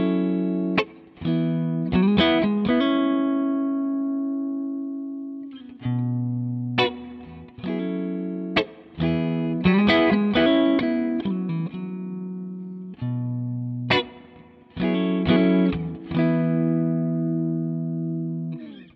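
An Amplified Nation Wonderland Overdrive V2 guitar amp plays loud chords and single notes, each ringing out into a darker, not overly bright reverb tail between strums, with no voices.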